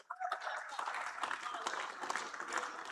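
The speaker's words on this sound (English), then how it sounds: "Round of applause to the both of them" Applause from an audience at a live cricket fan event, a steady dense wash of clapping that starts abruptly and fills the moment without a break.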